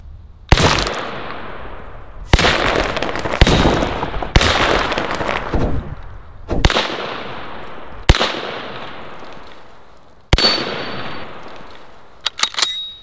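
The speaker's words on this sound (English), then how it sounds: "How many rounds of 30 carbine does it take to split a cinder block?" M1 carbine firing .30 carbine rounds into a cinder block: six loud, sharp gunshots spaced about two seconds apart, each ringing out with a decaying tail, followed by a few faint impacts at the end.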